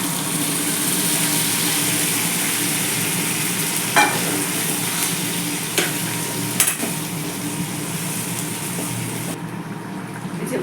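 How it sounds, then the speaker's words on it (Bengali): Mutton ghugni with dried peas, meat and potato simmering in a pot while being stirred: a steady, dense bubbling sizzle with a few sharp scrapes and clicks from the spoon. "ভালো করে ফুটতে শুরু করে দিয়েছে"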